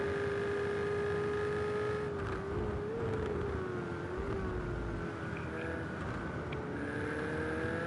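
A Ferrari 488 GT3 race car in Gran Turismo 7 on a flying lap at Daytona, its engine drone loud and steady throughout, pitch dipping and rising with gear changes.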